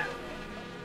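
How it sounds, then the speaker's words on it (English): Buzzing bees in the video game Kingdom Hearts: Chain of Memories give a brief, faint, steady insect drone with no voices over it. "Bees!"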